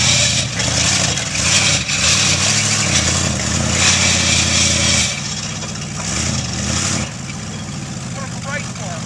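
A 1985 Buick Riviera fitted with a small block Chevy 305 V8 and a squeaky power steering belt idles steadily nearby, with a slight drop in level partway through.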